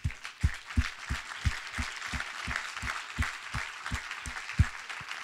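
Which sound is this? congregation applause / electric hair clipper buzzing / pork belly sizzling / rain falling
congregation applause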